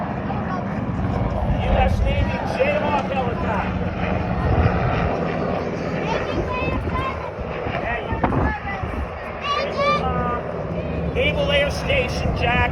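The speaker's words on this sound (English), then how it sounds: "U.S. Navy Jayhawk helicopter." A U.S. Navy Jayhawk helicopter flies past on a coastal class trip near St. Augustine, its steady rotor and engine roar loud and continuous throughout, with people talking over it.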